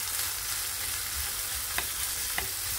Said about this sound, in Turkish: Soğan ve sarımsak birlikte kavruluyor.